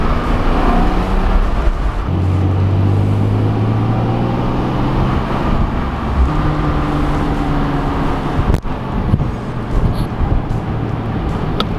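A Porsche 718 GTS engine hums and drones steadily on the Tail of the Dragon mountain road, with shifting revs and tone and a constant loud road roar from inside the car.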